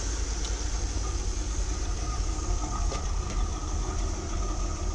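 A 1981 Corvette C3 with chrome side pipes idling, a steady low rumbling engine drone, close and constant with no talk.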